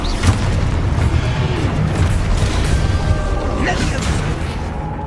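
Confringo explosion spell cast during combat in the video game Hogwarts Legacy, a booming blast within a dense, continuous battle mix of spell effects, rumbling low end and shouted incantations.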